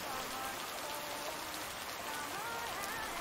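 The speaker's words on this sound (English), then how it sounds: "Can't harvest taters with all this rain." Steady rain falls over a potato-growing farm, a soft, even hiss of drops that stays constant and fairly faint throughout.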